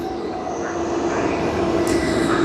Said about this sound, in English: I think we'll be having the 5th A330 of Qantas out there from Hong Kong